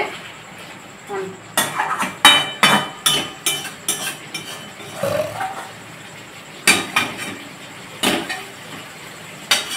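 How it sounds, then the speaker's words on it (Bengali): Mutton being stir-fried in a pot, heard as repeated scraping and clanking strokes of a metal spoon against the pot in an uneven rhythm, close and fairly loud, with a sizzle in the pauses between strokes. "মাংস এখানে কষা হচ্ছে।"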